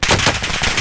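Rapid, loud gunfire bursts in an online shooter game, a quick run of close shots lasting under a second.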